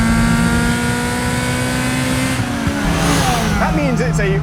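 A Lotus Elise four-cylinder engine revs loud and high toward 8,000 RPM, a steady strained whine that climbs and then drops as it comes off the throttle.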